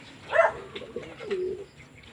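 A weakened bird caught in a net in a farm field coos softly nearby, a low throaty call rising and falling over faint background noise.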